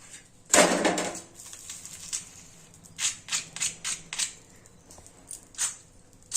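A roti roasting on a hot pan crackles like papad, opening with one sharp pop and then a run of smaller, quick crisp crackles, close and fairly quiet.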